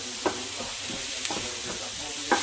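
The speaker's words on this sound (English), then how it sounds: "Just going to soften these onions up a little bit. Sweat them down a bit." Onions softening and sweating in a hot pan give a steady low sizzle, with a few soft spoon scrapes and stirs at intervals and a sharper clink near the end, no voices.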